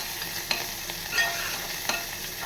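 Coriander leaves sizzle in a hot oil tempering for a cowpea curry, a soft steady frying hiss broken by a few light stirring scrapes and clicks, close and quiet with no talking.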